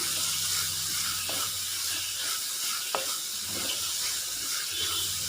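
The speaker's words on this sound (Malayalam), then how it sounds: "നന്നായിട്ടൊന്ന് വഴറ്റി കൊടുക്കാം." Sliced onions with a little salt sauté in a pan for a papaya stir-fry, a steady close sizzle with occasional light clicks from stirring.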